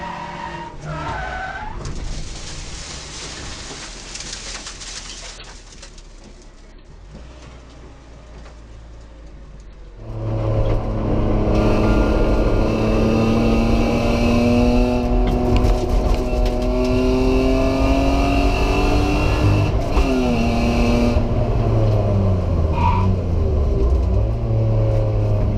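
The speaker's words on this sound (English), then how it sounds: "You can see the car step out over the crest, overcorrect, and from there it's all over." A race car at Hampton Downs in a 2021 Superlap round steps out over a crest and spins. Engine noise runs under a long, loud tyre screech that wails and wavers for about fifteen seconds.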